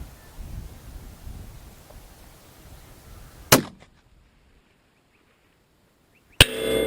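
A 6.5 GAP 4S rifle fires at long range: a sharp, loud report at about 3.5 seconds, a near-silent stretch, then a second sharp blast at about 6.4 seconds, with low outdoor rumble at the start.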